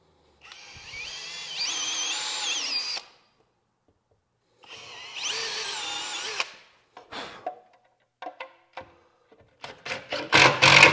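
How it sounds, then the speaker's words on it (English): A power drill whines in two sustained bursts while drilling pilot holes for mounting an EV charger, followed by several short stop-start triggers, fairly close and with no talk. "we'll be able to drill those pilot holes a lot easier"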